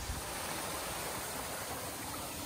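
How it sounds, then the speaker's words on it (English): Creek water flowing after recent rain on a once-dry streambed, a faint, even rushing wash with no voices. "I need to cross the creek"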